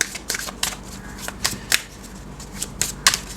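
Tarot cards are shuffled by hand during a reading, giving a string of crisp, papery snaps and riffles at close range, with no talk over them.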